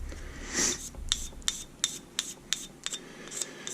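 A Harbor Freight diamond hone block rubs across the 200 grit side of a Work Sharp waterstone, giving quiet gritty scraping strokes in an irregular rhythm, close up and alone.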